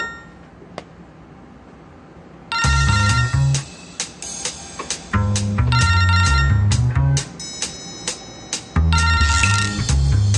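A telephone rings in a TV series scene: loud repeated electronic ringing bursts in a rhythmic pattern, with short gaps between rings and a faint tap before the first.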